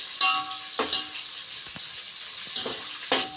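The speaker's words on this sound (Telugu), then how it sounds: "ఇప్పుడైతే కరివేపాకు వేస్తున్నా" Fresh home-grown curry leaves frying in hot oil for sambar, a steady close sizzle with a few louder crackling bursts as the leaves hit the oil, no voices.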